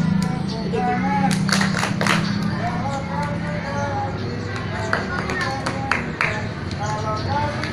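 Young schoolchildren in a primary physical education class clap along to a sing-along song, scattered bursts of claps rising over their singing and an adult voice leading them.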